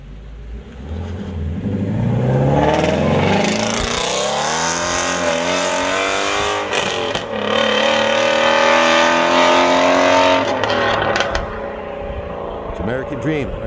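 A 550-horsepower Shelby Mustang pulls away on a winding mountain road, its engine note climbing loudly through gears in rising harmonic sweeps, close and sustained for over ten seconds before fading slightly.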